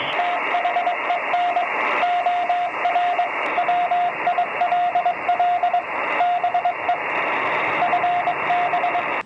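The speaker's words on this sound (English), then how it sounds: "It was really distorted, though. That's kind of how I remember AM radio." Distorted AM broadcast picked up on a software-defined radio with a Nooelec Ham It Up upconverter, a steady loud hiss-laden signal with a repeating beeping tone running throughout, no clear speech.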